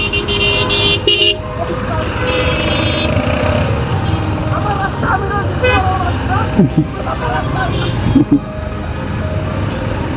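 A Bangladeshi traffic jam with bikes and CNG auto-rickshaws, engines rumbling close while several car horns toot in short bursts, with voices talking amid the din.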